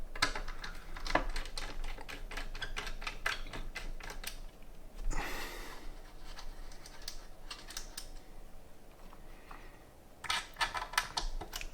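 Small screws being loosened on an EVGA RTX 3090 Ti FTW3 graphics card, with quiet, close clicking and scraping of a screwdriver in scattered bursts and a faint rustle in between.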